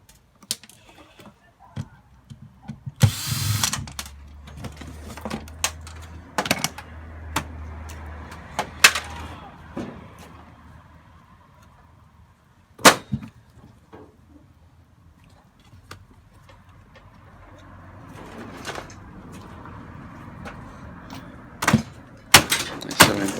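Sharp hammer knocks ring out as small water feed motors are beaten off the water pipe of a non-stainless dishwasher being scrapped, irregular metallic strikes with clattering and scraping between them, some close and loud.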